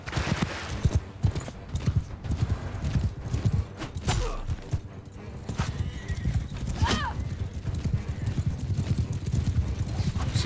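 Galloping horses from a band of horse archers in the Mount and Blade Bannerlord video game, dense clip-clop of many hooves rolling steadily throughout, with a horse whinny and scattered battle noise mixed in.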